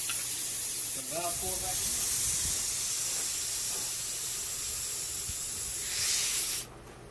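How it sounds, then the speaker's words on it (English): Compressed air hisses into a tire just seated on its wheel by a manual tire changer at home. The spray is steady and close for about six seconds, then cuts off sharply. "in now we can finish airing it up."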